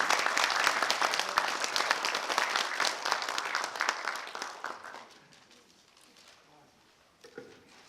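An audience at a Korean film event ceremony claps loudly and steadily for about five seconds, then the applause thins and fades into quiet room tone, with a brief voice near the end.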